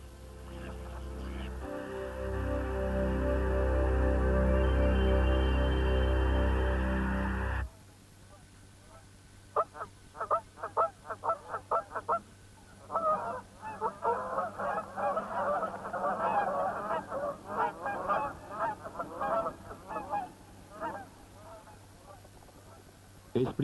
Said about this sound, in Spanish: Los gansos llegan muy al principio de la temporada, pero tienen un largo camino que recorrer.